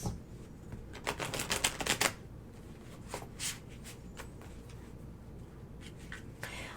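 Tarot cards being shuffled close by in quiet room, with bursts of rapid riffling and flicking in the first two seconds and softer scattered shuffles after.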